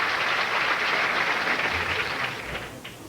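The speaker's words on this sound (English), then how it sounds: "Fans with a rousing applause" Fans at a bowling tournament applaud with a dense, steady wash of clapping that fades slightly toward the end.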